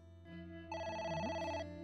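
A phone ringing in the video game AI: The Somnium Files, a synthesized ringtone of layered steady tones that swells in after a softer lead-in, alone and clear.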